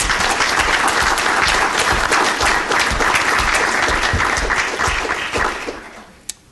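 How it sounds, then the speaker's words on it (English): An audience at a symposium applauds loudly, with sustained clapping that fades toward the end, followed by one final sharp clap. "Could you please give him a round of applause?"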